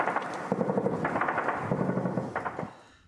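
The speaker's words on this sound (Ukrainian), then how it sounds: "Така стрілянина тут уже буденність." Infantry small-arms fire near Avdiivka on the eastern Ukrainian front line rings out in rapid, loud, close bursts of repeated shots for about three seconds, then fades away.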